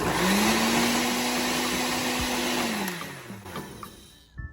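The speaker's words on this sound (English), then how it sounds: "he just put a little bit of soap and water in the blender and is running it to help clean the blender" A kitchen blender whirs loudly with soap and water inside, holding a steady high whine for a few seconds before it winds down and stops, followed by some faint clatter.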